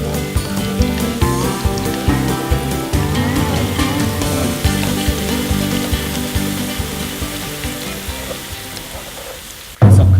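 Plenty of garlic fries in oil over moderate heat for aglio e olio, giving a loud, steady, close sizzle that crackles without pause and ends in a sudden thump.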